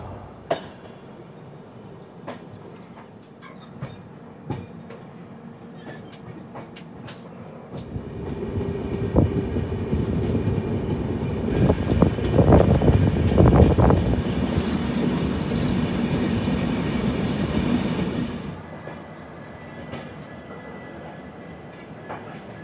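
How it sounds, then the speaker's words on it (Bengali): The Sealdah–Jammu Tawi Humsafar Express (22317) rolls into Lucknow station; a low rumble with wheel clatter swells for several seconds, peaks, then drops back to quiet ambience, with no talk. "এখানে আমাদের ট্রেন 3 মিনিট অ্যাডভান্সে স্টেশনে ঢুকলো"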